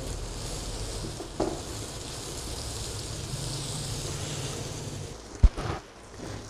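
Chopped onions and bell pepper frying in a pan, a steady hiss of sizzling that continues throughout, with a couple of brief clatters of stirring near the end.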